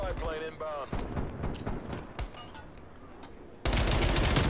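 Automatic MP gunfire in the video game Call of Duty Cold War, with dense rapid bursts that peak in a loud stretch near the end, while someone talks over the earlier part.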